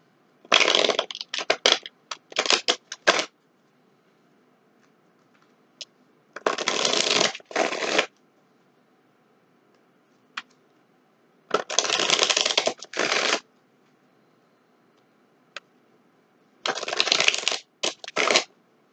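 Tarot cards being shuffled by hand in four separate bursts of crisp riffling, each a second or so long, close and loud with quiet pauses between and no talking.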